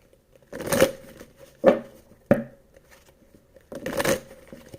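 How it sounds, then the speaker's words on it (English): Tarot cards are riffled and shuffled in four separate quick bursts, close and crisp, with short quiet gaps between each shuffle. "One more shuffle, please."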